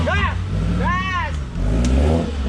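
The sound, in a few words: off-road vehicle engine revving on forest trail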